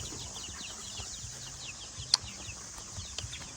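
A hungry chicken clucks close by in a quiet farmyard, its soft calls repeating in short, uneven bursts, with one sharp louder peep partway through and no talking.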